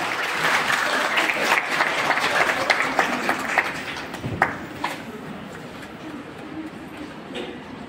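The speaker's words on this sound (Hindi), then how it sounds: "सब लोग से आग्रह है कि ताली बजाकर स्वागत करें" An audience at a Rashtriya Swabhiman Andolan session claps in welcome, dense, sustained applause that slowly thins and fades toward the end.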